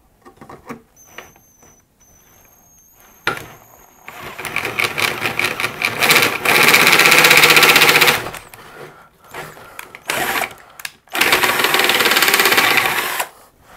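A cone cutter bores into the metal chassis of an Elpico AC-88 valve amplifier, producing bursts of harsh, loud grinding and chattering cuts with short pauses between them, close up and with no talk.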